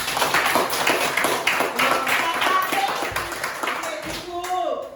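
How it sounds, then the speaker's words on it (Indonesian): Clapping from a classroom group, a rapid burst of many hands that is loud and close, mixed with some talking, and it thins out toward the end. "tepuk tangan dulu buat Delvi."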